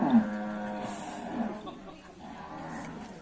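Cattle at a northern Thai cattle market: a low moo rises and fades near the start amid steady market murmur, with someone talking over it throughout.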